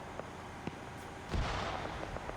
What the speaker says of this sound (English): They spotted the gas and are throwing grenades at it